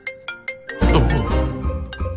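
Mobile phone ringtone for an incoming call in a Telugu action film scene: four short repeated chirps, then a loud burst of dramatic sound that swamps the ringing, which returns faintly near the end.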